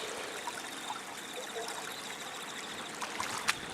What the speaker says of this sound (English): you can still see the amount of water trying to get out of here